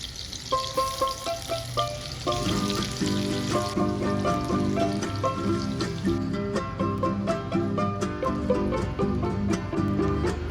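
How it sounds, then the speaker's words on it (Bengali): Vegetables with salt and turmeric sizzle steadily in a hot pan, a continuous close frying hiss with faint clinks and stirring throughout, no talk. "এখানে লবণ হলুদ দিয়ে সবজিগুলো ভাজতে বসিয়ে দিয়ে নিই।"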